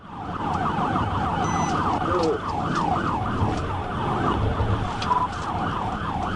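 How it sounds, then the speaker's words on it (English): A police cruiser's wailing siren cycles rapidly and steadily throughout a high-speed pursuit, loud and close, with road and engine rumble underneath and brief radio-like tones. "Trooper Weatherly then fully activated his siren"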